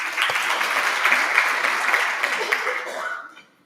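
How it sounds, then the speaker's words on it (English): A conference audience breaks into sustained applause during a stakeholder roadshow in Johannesburg, a dense wash of many hands clapping steadily for over three seconds before tapering off, with some talk faintly mixed in. "I think you deserve a round of applause."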